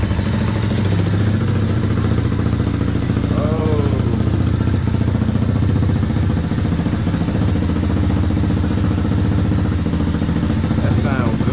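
A dirt bike engine runs steadily and loud with its choke off, a continuous rough mechanical drone that never lets up, while voices briefly speak over it.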